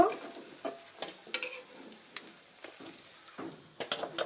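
Fried fish being lifted out of sizzling oil, a soft, steady sizzle broken by brief scraping clicks of a utensil against the pan.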